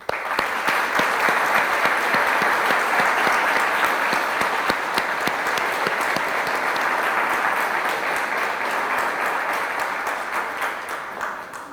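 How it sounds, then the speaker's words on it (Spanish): An audience at a lecture in a business faculty at UPCT bursts into sustained applause, dense and loud clapping that holds steady for about twelve seconds before tapering slightly, with no talking over it. "le demos un fuerte aplauso a Fernando Paz"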